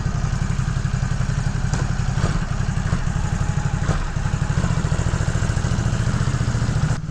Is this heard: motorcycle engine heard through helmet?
yes